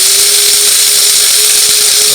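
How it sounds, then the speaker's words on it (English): A coffee grinder whirs steadily as it grinds whole black peppercorns, giving a loud, even, high-pitched motor whine with a sustained tone that runs without a break from start to end. "So I'm gonna just throw a few of these in a coffee grinder."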